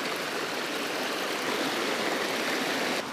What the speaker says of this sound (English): We're following a creek, the one that we just crossed.